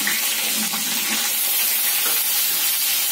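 Potatoes fry in a pan with a constant close, hissing sizzle throughout and no voices.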